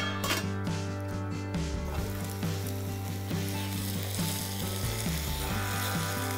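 Tomato and mint chutney ingredients with tamarind pulp simmer in a covered pan, a steady close sizzle with a low continuous bubbling hum throughout, no voices.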